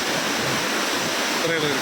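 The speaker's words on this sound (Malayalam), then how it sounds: "നല്ല രസമായിട്ടുണ്ട് ഇത് വെള്ളച്ചാട്ടം." A steady, loud roar of falling water at Ramboda Falls in Sri Lanka fills the whole clip without a break, close and constant.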